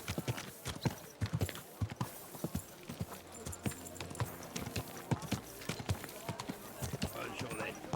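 Horse hooves clip-clop in a steady, uneven rhythm on a hard surface, close and fairly loud through the whole stretch, with voices speaking over the hoofbeats.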